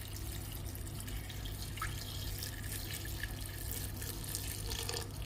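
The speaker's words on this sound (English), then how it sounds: "put enough water until it reaches the tip of the meat" Water pours steadily into a pulao pot holding meat, a continuous close splashing and trickling stream that runs without pause and cuts off abruptly at the end, no talking.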